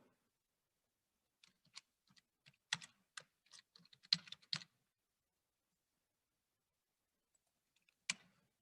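Typing on a computer keyboard, a scattered burst of soft key taps for a few seconds, then silence before one last sharper keystroke, close and quiet with no talk.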